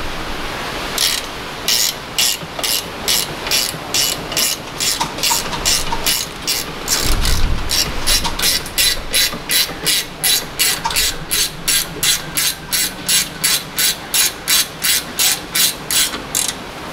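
A ratchet wrench with a 14 mm socket clicks rapidly on the caliper of a 2008 Citroen C-Crosser 2.4, loud close bursts of ratcheting repeating in a steady rhythm with a brief heavier clunk midway.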